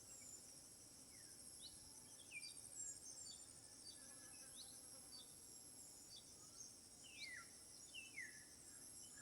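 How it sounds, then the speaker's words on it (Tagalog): Quiet rural countryside ambience where insects, likely crickets, trill steadily throughout while scattered bird chirps and short whistled calls come and go faintly in the distance. "Ang maririnig nyo lang, huni ng ibon"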